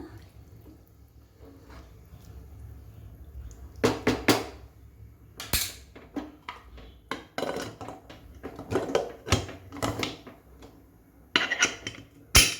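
A lid set onto a pressure cooker in a home kitchen, heard as a series of sharp metallic clanks and knocks with scattered clatter between, close and fairly loud, no talking.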